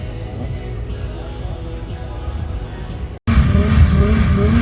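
BMW E30 warming its tires at a drag racing meet, a steady loud engine drone with a brief cut near the end, then a louder burst of revving and tire noise.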